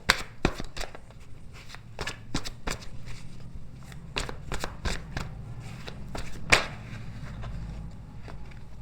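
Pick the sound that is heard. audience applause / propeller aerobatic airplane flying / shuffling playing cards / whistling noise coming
shuffling playing cards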